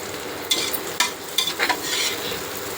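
Onions sautéing in a pan for biryani, a soft continuous sizzle broken by a few sharp scraping stirs of the spatula, heard up close with no talking.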